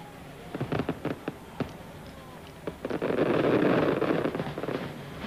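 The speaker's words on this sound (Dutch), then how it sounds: "Op 10 verschillende plaatsen moeten we nu een fantastisch vuurwerk krijgen." Fireworks at the opening of Disneyland Paris in 1992: scattered distant bangs and crackles outdoors, then a denser rumbling burst of explosions with crowd noise.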